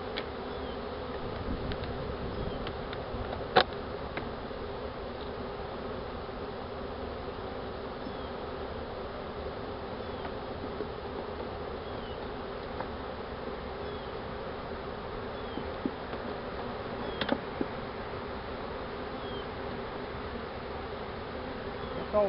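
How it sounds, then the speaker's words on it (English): A honeybee swarm drones around a hive box in a continuous, even buzz of many bees, close and steady throughout, with a few faint clicks and no talking. "The bees will settle down and go in the box."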